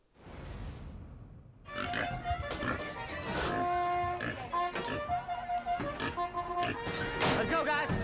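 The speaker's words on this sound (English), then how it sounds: "Pigs racing around a track." Racing pigs run around a track at an event in Vicksburg, with oinks and grunts over a noisy, cheering crowd and people talking, plus scattered thumps and shouts.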